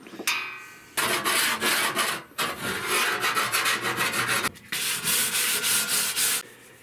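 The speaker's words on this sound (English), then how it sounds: "I'll file the edges a bit." A file rasps back and forth along the edges of a sheet metal chair, with coarse, loud scraping strokes in long bursts separated by short pauses.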